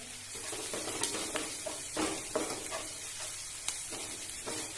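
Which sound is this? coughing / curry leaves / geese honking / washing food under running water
curry leaves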